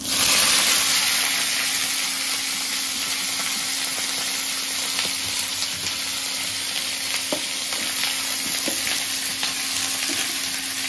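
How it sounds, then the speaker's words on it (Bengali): Potatoes and mixed vegetables fry in a small pan, giving a loud continuous sizzle with occasional crackles and stirring scrapes, steady throughout with no voices. "আলুটা মোটামুটি একটু ভাজা হয়ে গেছে, এটা ভাজা হতে হতেই এই সবজিগুলোও দিয়ে দিই।"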